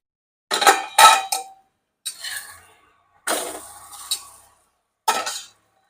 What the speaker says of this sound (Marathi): एक मिनिट झाला झाकण काढून घेऊ